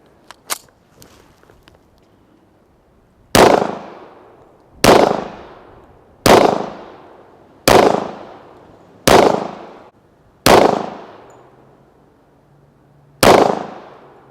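Seven loud, sharp gunshots from a Rock Island Armory Tac Ultra FS 1911 .45 ACP pistol fired outdoors at an even, deliberate pace, each with a short decaying echo, after a few faint clicks and no talk.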